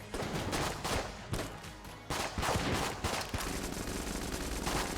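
Rapid gunfire from the Sticky Launcher in the Enter the Gungeon video game, a dense, loud stream of overlapping shots with a brief break near two seconds, with no talk over it.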